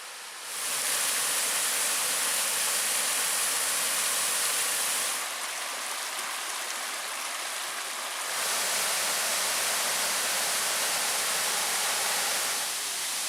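Mosquito Falls at Pictured Rocks pours over rock into rapids in a carved canyon, producing a steady broadband rush of water. It dips briefly in the middle and then swells back to full strength, with no voices.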